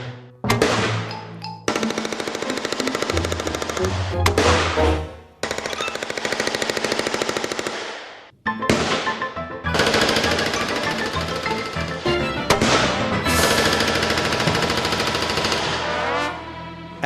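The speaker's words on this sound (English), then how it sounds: "Gwant uses the shotgun to blast away to Wascoe's support beams" Shotgun blasts and rapid automatic gunfire shooting away at support beams, loud sustained bursts of dense firing separated by brief pauses, with no talking.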